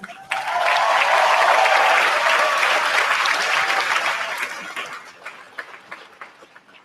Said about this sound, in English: please give a round of applause to Mr. Nerlin.